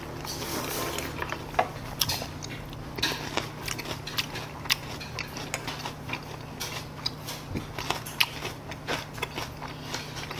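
Sweet and sour pork (tangsuyuk), cut into small pieces and fried crisp, being chewed up close with crunchy bites and soft clicks, steady and fairly quiet, with no talking.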